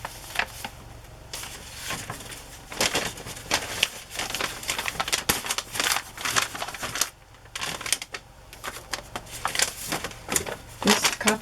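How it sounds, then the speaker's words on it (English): Coffee-dyed paper crinkles and crackles loudly as it is handled and shifted close by during crafting supplies preparation, in irregular bursts of rustling with short pauses. "This coffee dyed paper is very crinkly."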